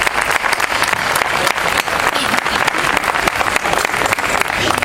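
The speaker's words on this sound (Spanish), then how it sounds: "Yo pediría un fuerte aplauso para el compañero" An audience at a public ethics and human rights talk claps loudly and steadily, close-sounding applause with many distinct hand strikes throughout.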